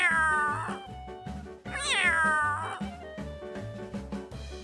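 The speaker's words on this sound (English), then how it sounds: "C for cat," A cat meows twice in long, drawn-out wails over a steady musical backing, each call rising and falling in pitch.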